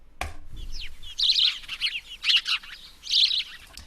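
Small birds chatter and tweet in quick, high bursts, several overlapping calls close by, with a soft rustle at the start.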